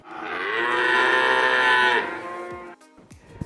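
A single cow moos loudly and close up in a long, sustained, steady call, then it tapers away into quieter background noise with a few faint knocks.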